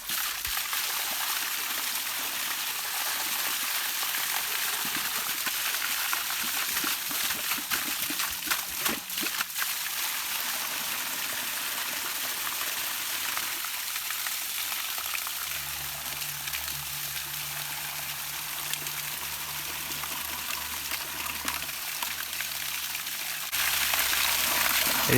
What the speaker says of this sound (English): Here you can see the air and the water rushing out as the tap's open with the full volume coming through.